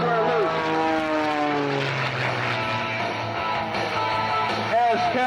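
A 300-horsepower aerobatic propeller plane performing loops at a 1998 Michigan air show, its engine whine rising and falling as it pulls through manoeuvres, loud and continuous, with an announcer's voice talking over it.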